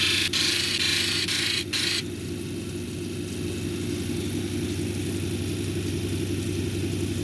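A cabochon grinding machine runs while shaping Owyhee jasper. A harsh high grinding contact lasts about two seconds, then gives way to a steady mid-pitched motor hum, with no speech.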